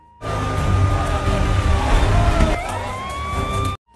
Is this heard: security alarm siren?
yes